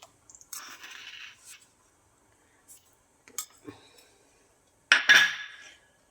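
A spoon clinks against a cooking pot while salt is added to a Kerala-style sardine fish curry, a few scattered metallic taps and scrapes with quiet gaps between them, ending in one louder rattling clatter.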